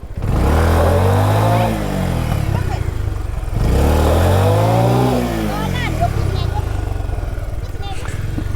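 A motorcycle stuck on a muddy rural hill road in rain and fog revs hard and loud, the engine climbing and falling in two long surges while the bike strains in place.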